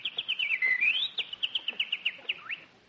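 A bird chirping on a lawn as a radio comedy sound effect, a rapid run of bright, clear tweets and whistled trills in quick rhythmic bursts, close and alone.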